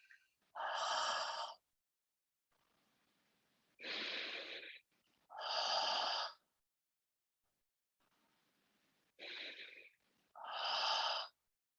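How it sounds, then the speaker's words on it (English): Five breathy, close exhales, pushed through hands cupped over the mouth as if fogging a mirror during a yoga class, each a short burst separated by quiet pauses. "cup the mouth, 3 audible exhales like you're fogging a mirror"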